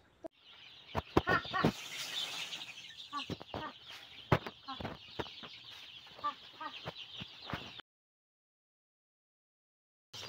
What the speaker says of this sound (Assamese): বাপ্পা ও মুৰ্গী কেইটা কিমান দিন বলো ডাঙৰ হোৱা নাই